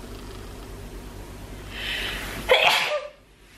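A single loud sneeze with a sharp burst, preceded by a brief breathy inhale, close to the listener, fading into quiet.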